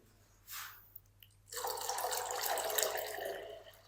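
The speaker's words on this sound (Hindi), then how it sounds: "इसके अंदर ना थोड़ा सा पानी और शामिल कर देंगे।" Water pours steadily into a pot of daal chana, a continuous splashing rush that starts after a couple of faint drips and knocks and keeps running to the end.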